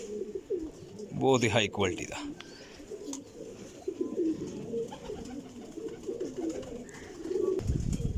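Rooftop flying pigeons give soft, low coos in short bursts behind someone talking close to the microphone, with a few faint chirps and a rustle near the end.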